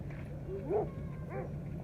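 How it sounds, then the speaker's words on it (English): Dogs at a campsite barking at a distance, a couple of faint yelping barks over a steady low background hum. "we walked past those barking dogs a couple times"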